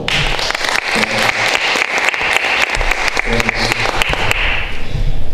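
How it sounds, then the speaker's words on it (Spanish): Audience applause after a lecturer on planetary science and solar system physics is introduced, steady dense clapping filling the room for about five seconds and swelling slightly toward the end. "Le damos un fuerte aplauso, por favor."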